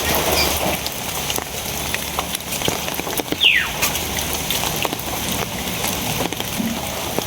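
Heavy rain falls steadily as a dense, even hiss across the whole stretch, with a brief rising tone near the middle and no voices.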